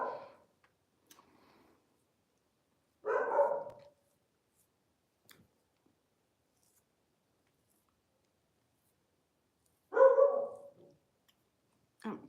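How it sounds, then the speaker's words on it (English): A dog barks outside in two separate bursts of quick rough barks several seconds apart, moderately loud, with near silence between them. "Can you hear that dog?"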